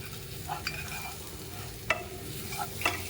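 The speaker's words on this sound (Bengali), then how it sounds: "দিয়ে ভালো করে মশলার সাথে আমি মিশিয়ে নিচ্ছি" Peanut powder being stirred into fried masala in a pan, a soft scraping stir under a faint sizzle with a few sharp spoon clicks against the pan.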